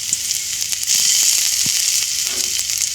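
Chopped garlic sizzling in a little hot oil in a pan for pork and chicken adobo, a steady loud hiss close up with a slight swell as it fries, no talking.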